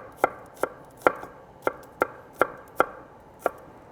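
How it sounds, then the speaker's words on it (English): A knife slices a shallot thin on a cutting board in about nine steady, crisp chops, close up and evenly paced, with no voices. "We're gonna slice 1 more shallot, nice and thin"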